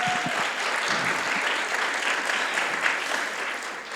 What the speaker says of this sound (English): please join me in giving Carrie a round of applause